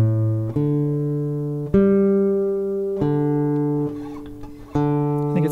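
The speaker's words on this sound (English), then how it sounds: "I'm going to check my tuning, because my tuning sounds weird." An acoustic guitar is tuned string by string, with four sustained plucked notes each ringing out and slowly fading before the next pluck, loud and close with no talking.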